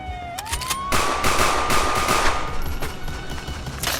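Soldiers fire guns in a Minecraft video game animation, rapid bursts of repeated shots with a rising siren-like tone running through the first half.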